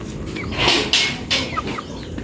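Chickens cluck nearby in short, irregular bursts, with a few louder squawks among softer murmurs, on a rural farmyard flock.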